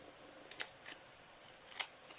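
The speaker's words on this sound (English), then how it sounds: "And you are just going to cut them" Scissors make a few quiet, quick snips while cutting paper for a Halloween treat box, with sharp clicks spaced apart in a quiet room.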